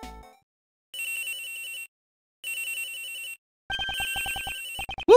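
Phone ringing in the video game Ace Attorney Investigations 2, an electronic ringtone in two clean, evenly spaced bursts, followed by a quick run of rapid blips and a short rising chirp.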